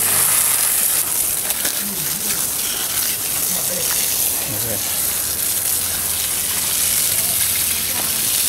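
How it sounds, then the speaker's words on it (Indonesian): Water gushing steadily from a hose or can onto the base of potted fruit trees until the soil is soaked, a loud continuous splashing rush throughout. "Ini kita menyiram bawahnya ya sampai basah."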